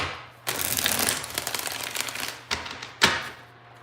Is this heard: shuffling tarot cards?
yes